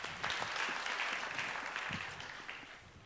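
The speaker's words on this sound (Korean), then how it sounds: "하나님께 영광의 박수 올려드리겠습니다" A young adults' worship congregation in a Korean church claps in praise to God, a soft, fairly distant, steady patter of many hands heard alone.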